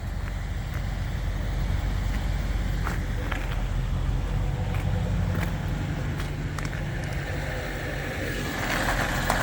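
A passing vehicle heard from outdoors, first taken for a diesel but in fact a Jeep 4xe plug-in hybrid. Its engine rumble rises and fades against a steady wind and road noise, with no talk over it.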